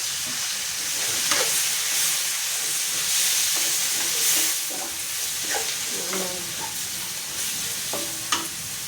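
Vegetable stems stir-fried with oyster sauce in a hot pan sizzle and hiss steadily while a utensil scrapes and clatters against the pan in irregular strokes, close up.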